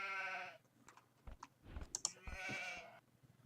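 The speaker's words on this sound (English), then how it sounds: "sheep." Sheep bleats from the strategy game Age of Empires II, two clear harmonic bleats at the start and end separated by soft clicks and keyboard-like tapping, quiet overall.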